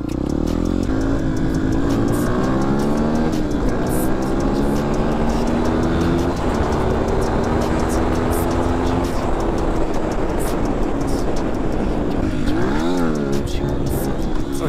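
A Beta 125 limited edition motorcycle rides with its engine rising and falling through gear changes and engine braking, buzzing loudly up close with wind buffeting over the microphone.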